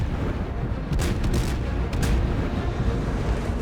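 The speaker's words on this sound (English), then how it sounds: "I ordered the senior artillery officer to open fire with armor-piercing shells" Heavy cruiser Des Moines fires armor-piercing shells in a naval video game, giving two or three booming gun blasts over a constant low roar of battle noise, loud and close, with no voices.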